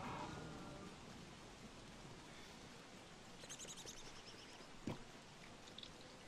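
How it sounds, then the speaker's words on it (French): Quiet steady rain hisses in a Don't Starve Together world, broken near the end by one sharp crack of thunder, with fainter crackles before it. "Oh l'éclair."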